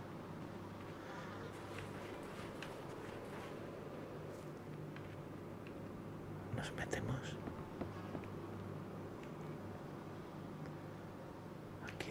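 Flies buzz continuously in the post-apocalyptic survival game Miscreated at night, a steady insect drone over low ambient hum, with a brief louder swell midway.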